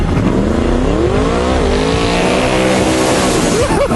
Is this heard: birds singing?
no